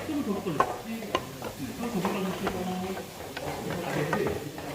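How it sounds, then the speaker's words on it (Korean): Beef stir-fried over low heat in a pan while making gochujang, with a soft continuous sizzle under repeated scraping and tapping of a spatula stirring the meat, close and moderately quiet, with no talk. "기름이 약간 나올 때까지 소고기를 약한 불에 볶아주고 있습니다"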